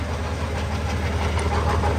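Homemade 220 V generator built from an asynchronous motor and driven by a 1.1 kW pump-station motor, humming and whirring loud, steady and close, with no talk.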